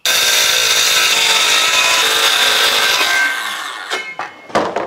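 A power saw cutting wood pieces for a skateboard flat bank kicker ramp, a loud, steady whining cut lasting about three seconds, then the saw winds down into a couple of sharp knocks and rattles.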